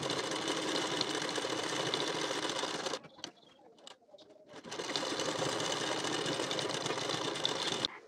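A sewing machine runs fast and close, stitching a strip on a blouse in a continuous loud whir. It stops for about a second with a few faint handling clicks, then resumes stitching.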